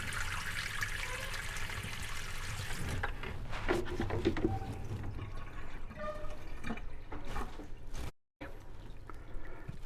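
Water trickles and drips steadily into a bucket as a fish is slowly acclimated to an aquarium tank, with faint scattered drips over a continuous watery hiss, briefly cutting out near the end.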